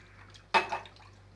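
Oil poured into milk for yeasted dough, a single short liquid splash and glug lasting about a quarter second, close, with quiet background hum.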